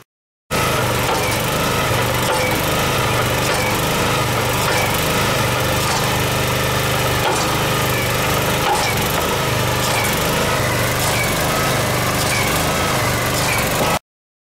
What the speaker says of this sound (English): In this example, we've driven 50 feet of steel casing down the borehole until it contacted bedrock.